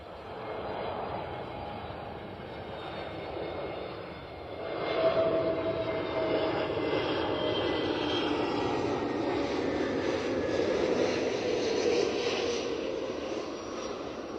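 Aircraft at Bristol Airport roar steadily from a distance, the jet engine noise swelling slightly midway and holding as a continuous broad rumble with no talk.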